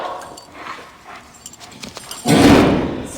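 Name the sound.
dog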